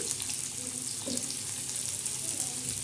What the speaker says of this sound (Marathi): तव्यावर हे कांदा टाकलेला आहे कांदा असा मस्त लाल जर लाल जर असं चांगला तळायचा आहे